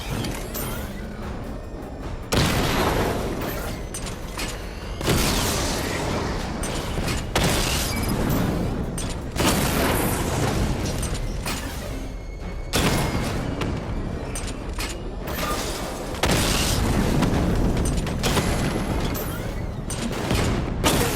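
A missile barrage fires in Batman: Arkham Knight as repeated heavy booming volleys with mechanical clatter, loud and sustained, each burst swelling and dying away in a regular cycle.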